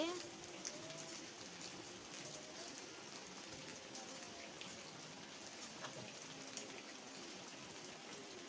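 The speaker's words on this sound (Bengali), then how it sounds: "আর বৃষ্টি শুরু হয়েছে এই যে" Steady rain falls outdoors with a soft, even hiss of drops on surfaces, faint and continuous throughout with no clear breaks.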